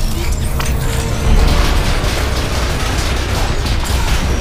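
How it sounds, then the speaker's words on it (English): Grenade blasts in the VR sci-fi shooter Exoshock, a dense, loud run of booming bursts and mechanical clatter layered over a constant rumble, with no voice heard. "I'll get these grenade throws off."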